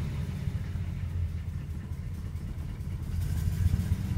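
An old 1971 car engine idles after a cold start, giving a steady low rumble with uneven, lumpy pulses that rise slightly toward the end, heard alone and fairly close.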